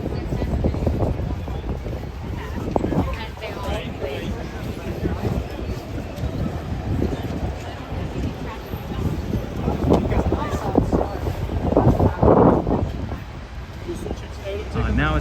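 Wind buffets the microphone in low rumbling gusts on a Midtown Manhattan street at night while a person talks throughout, with a louder blast toward the end.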